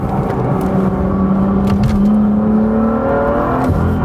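Manual BMW M2 sports car engine accelerating with electronic aids switched off, a loud rising engine note that climbs steadily in pitch, then briefly dips as a gear change comes near the end.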